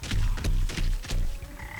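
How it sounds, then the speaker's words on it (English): Frogs croak in the game Wytchwood, a series of close, loud, throaty calls repeating in quick pulses, followed by a fainter steady tone with no talk. "The frogs keep spawning"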